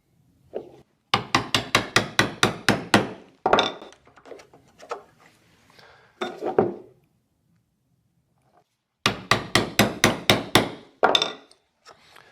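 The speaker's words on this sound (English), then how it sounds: "When I'm chopping, I like to start at the widest diameter of the hole" A chisel driven by mallet strikes chops a mortise in wood, delivering fast rhythmic bursts of sharp knocks, close and crisp, with quieter scraping and paring between the two main runs of blows.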